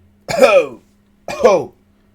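Two loud, raspy coughs, about a second apart, close to the microphone with silence between them.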